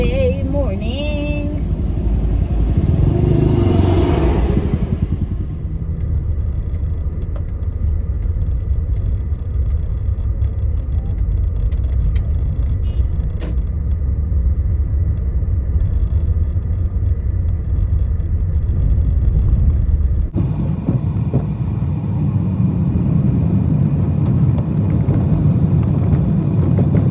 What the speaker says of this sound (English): Oh, traffic on a Saturday morning.